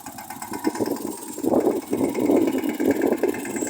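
A tractor engine runs at a steady mid-pitched idle as it turns at the edge of a groundnut field, then its throb grows louder and fuller in the second half as the machine works through the turn.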